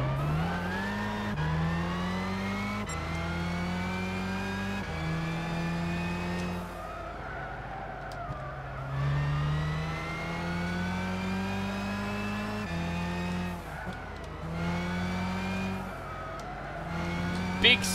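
Race car engines in the Gran Turismo 6 game during a Dream Car Championship race, revving in repeated rising gear-shift sweeps with tire squeal and passing cars, heard close and continuous.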